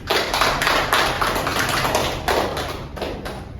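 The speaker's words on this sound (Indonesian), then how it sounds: "Boleh tepuk tangan, terima kasih." Schoolchildren in a classroom clap their hands, a brisk, close burst of applause with uneven pulses that rise and fall over a few seconds.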